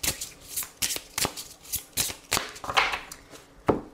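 Tarot cards riffled and cut by hand in quick rhythmic bursts, about eight crisp close shuffling sweeps with short pauses between them.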